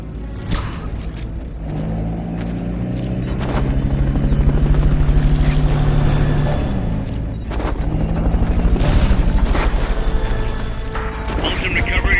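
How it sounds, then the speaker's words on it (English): A Fulton recovery helicopter in the video game Metal Gear Solid Peace Walker gives a loud, continuous rotor thrum and rumble that swells and dips slightly throughout, with game voices heard over it. "Fulton recovery helicopter is complete."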